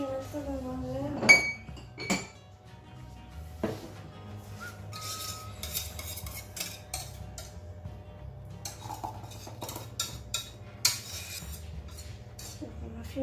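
Dishes, pots and cutlery clink and clatter in a kitchen as leftovers from healthy meal prep are moved into a glass, sharp clinks scattered over a low steady hum with brief voices in between.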